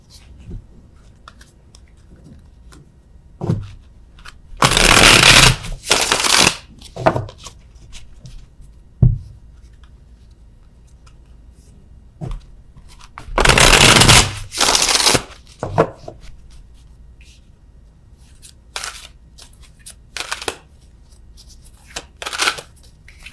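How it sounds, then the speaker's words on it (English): A tarot deck is shuffled in two loud, close riffling bursts, with softer card snaps and slides in between as cards are drawn and laid down during a love reading. "let me get one card for these as well"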